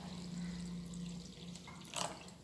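Water is poured onto broken wheat in a container, a close, continuous liquid splash and trickle, with a brief sharper splash near the end.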